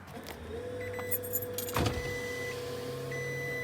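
Car keys jangle in a brief cluster of metallic clinks as a car is started, followed by the engine settling into a steady idle hum, with no talking.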